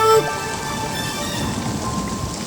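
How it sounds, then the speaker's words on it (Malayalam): Steady rain with wind pours down in a dense, even hiss, with a soft low rumble beneath, continuous and close with no talking. "പെട്ടെന്നു മാനം കറുത്തു വന്നു, മഴയുടെ കൂട്ടത്തിൽ കാറ്റും വന്നു."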